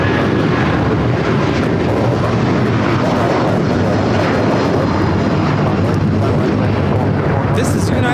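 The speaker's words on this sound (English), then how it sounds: "This is United Airlines 2127 taking off to Newark on the 757-200" A United Airlines Boeing 757-200 takes off at LAX bound for Newark, a loud sustained jet roar filling the whole stretch, with someone talking over it.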